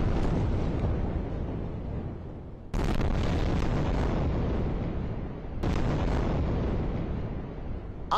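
Loud, continuous roaring rumble of explosions over Gaza City during the Israel-Hamas war, with heavy booms breaking in abruptly near 3 and 6 seconds and sustained reverberation filling the gaps.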